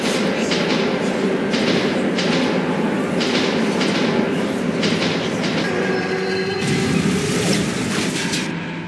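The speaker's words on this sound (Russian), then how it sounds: "Поезд-призрак?" A ghost train rumbles through a metro tunnel in the Metro 2033 Redux video game, a loud sustained roar of rolling wagons with rhythmic clatter that swells and shifts as it passes close by.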